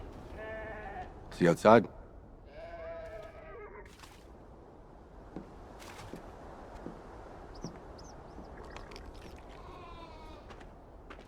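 Sheep in the Beyond Two Souls video game, on a Navajo farm, give a loud, close bleat of a couple of seconds near the start. Conversation and quiet outdoor ambience carry on around it.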